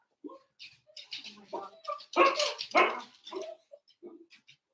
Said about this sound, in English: my dog wanted to go out because he doesn't like cats